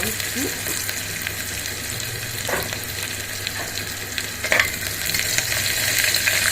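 Onion pieces sizzle and fry in a pan for mutton kheema pulao, a steady crackling hiss broken by a few clinks and scrapes of stirring. There is no talking over it.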